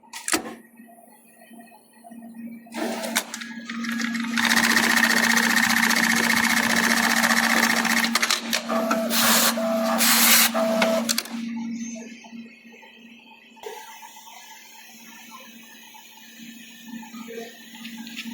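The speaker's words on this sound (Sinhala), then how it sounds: "අපි දැන් ඉතින් මේක කටලා බලමු ඔපරේෂන් එකක් කොහොමද අවුට්පුට් එක කියලා." An automatic pattern sewing and laser cutting machine works a fabric pocket piece, starting with a short burst, then running loudly for several seconds with rapid mechanical chatter and whirring before winding down to a quieter hum.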